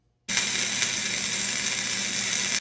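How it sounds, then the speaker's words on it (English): A steel weight bracket being welded onto a three-point tractor ripper, a loud steady crackling hiss that starts abruptly and runs unbroken for a couple of seconds before cutting off. "Now we're gonna clean everything up and get this this weight bracket welded on."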